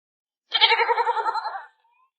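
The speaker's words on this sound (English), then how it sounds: "You found the goat." A goat bleats once in a single quavering call of about a second, with a rapid pulsing tremble, close and clear against silence.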